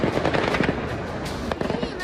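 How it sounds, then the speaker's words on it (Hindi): Rapid, irregular gunfire from Russian soldiers firing indiscriminately to drive off protesters, loud sharp cracks in quick bursts over a busy, noisy background. "रूसी सैनिक प्रदर्शनकारियों को खदेड़ने के लिए अंधाधुंध गोलियां बरसाने लगे।"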